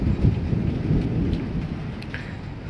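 Heavy rain pours with a steady, dense hiss during a thunderstorm while low thunder rumbles underneath, close and continuous, with no voices.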